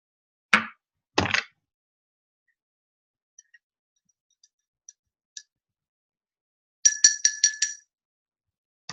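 A couple of sharp clinks ring out from a glass of water, then faint ticks, and later a quick run of bright, bell-like glass chimes, with silence between.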